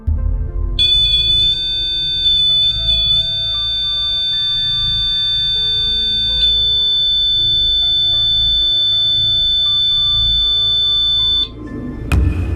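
A REM pod ghost-hunting device sounds its alarm, a shrill, steady electronic tone that starts abruptly, holds unbroken for about ten seconds close by, then cuts off, with faint room noise beneath.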